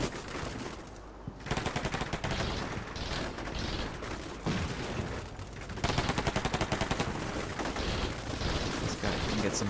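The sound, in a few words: gunfire in a firefight, video game Combat Mission: Shock Force 2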